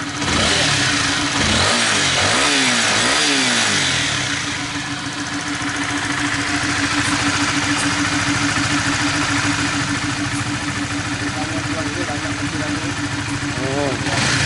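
A 2017 Honda Sonic motorcycle engine idles smoothly on fresh oil with a steady mechanical chug and rattle, revving briefly at the start, while someone talks over it.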